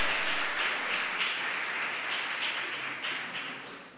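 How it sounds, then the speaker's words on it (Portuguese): A church congregation applauds, a sustained wash of many hands clapping that fills the hall and slowly tapers off, with no voices over it. "Você pode aplaudir o Senhor?"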